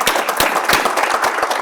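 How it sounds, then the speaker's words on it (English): A live expo business-talk audience applauds for Elizabeth, a brief steady patter of many hands clapping close and fairly loud, with no talking over it. "How about some applause one more time for Elizabeth?"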